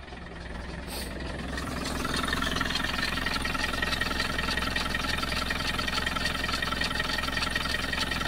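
A 300 TDI diesel engine idles roughly with a noisy, uneven knock, as if not firing on all four cylinders, steady and close for several seconds, loudness rising slightly at the start, with no voices.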